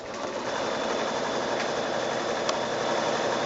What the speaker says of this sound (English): I'm just going to zigzag right over the raw edges just to stop any fraying that might happen